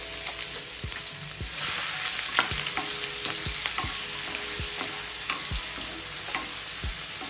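Crushed onion sautéing in oil with mustard seeds, cumin, bay leaf, red chili and hing for Kathiyawadi dhokli shaak, a steady close sizzle punctuated by regular scraping stirs and small pops.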